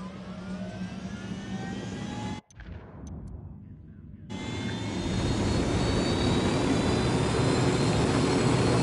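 Aircraft engine roar in the Ghost Recon Wildlands video game, a loud steady drone that cuts out briefly, returns, and then swells louder toward the end.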